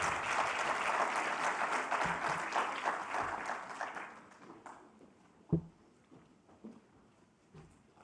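A conference audience applauds with dense, sustained clapping that gradually thins and fades over several seconds, leaving scattered claps and faint room noise.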